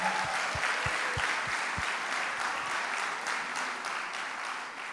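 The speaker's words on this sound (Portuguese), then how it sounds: "Dá uma salva de palmas pela vida do Theo" An audience at an evening church worship event bursts into dense, sustained applause, loud and continuous from start to finish, fading only slightly at the end.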